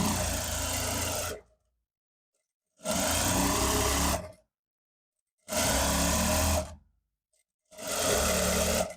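A sewing machine stitches elastic for jogger trousers in four loud, steady whirring bursts of about one to two seconds each, separated by silent pauses.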